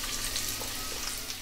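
Onion frying in oil in a nonstick pan for a clam masala, a steady close sizzle that stays even throughout the short stretch.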